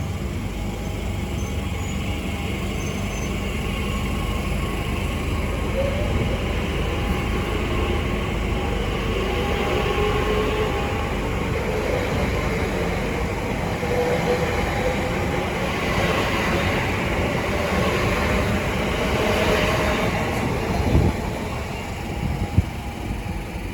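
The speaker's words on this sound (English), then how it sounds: "now departing is the 12:45 TfL rail service from Hain and Harlington to London Paddington" A TfL Rail train pulls out of Ealing Broadway bound for London Paddington, a steady loud rumble of wheels and motors that holds for the whole stretch, with a couple of faint clanks near the end.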